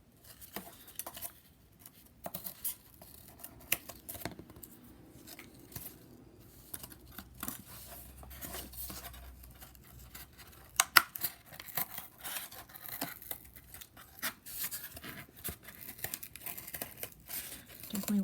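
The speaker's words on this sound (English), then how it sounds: "so still cutting just alongside this G here" Scissors cutting through cardboard to shape a letter for an art project: steady close snipping, crunching and bending, with occasional talk.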